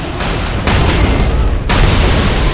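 Heavy gunfire and booming explosions pound an armored tank during a Saints Row IV fight, a loud continuous barrage with sharp jumps in intensity as new blasts hit.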